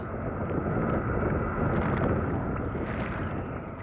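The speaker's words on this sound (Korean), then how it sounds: "설상가상 바람이 강해지면서 파도가 쉴 새 없이 뱃잔을 때립니다." Strong wind roars with waves pounding a small fishing boat in rough seas, a steady loud broadband rush throughout with gusting swells and no voices.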